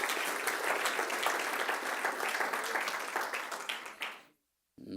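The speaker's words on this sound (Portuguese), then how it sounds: "E se você crê, aplauda forte o nome dele." A church congregation claps loudly and continuously for about four seconds, the dense applause fading off before a brief silence and the next sound.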